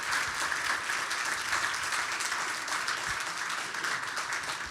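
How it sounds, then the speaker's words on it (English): Steady applause from an audience at a book talk, a dense wash of many hands clapping at even loudness throughout, with no voices over it. "let's give a big round of applause for Christopher and Kate."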